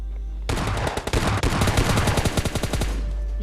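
Rapid automatic bursts from an M4 assault rifle in a video game, loud and close, a dense rattling stream of shots for about two and a half seconds before cutting off.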